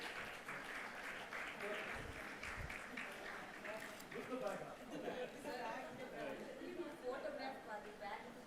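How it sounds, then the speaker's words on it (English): Audience at a women's summit applauds a panel and its moderator; soft, moderately distant clapping runs throughout, mixed with chatter and voices in the hall. "A big round of applause for our fabulous panel and moderator"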